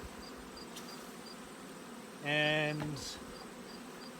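Honeybees buzzing in an opened winter hive with the queen excluder pried off, a steady low hum with a brief louder surge as bees fly close, while a person speaks briefly.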